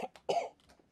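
A single person coughs nearby, starting with a short throaty catch that builds to one harsh, forceful cough and then trails off quietly, with no talking.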